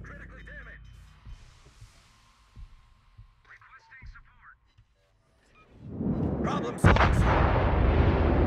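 A warship's shell detonation in World of Warships, a deep roaring blast swelling up and then a sharp heavy boom after quieter rumbling, under faint voices.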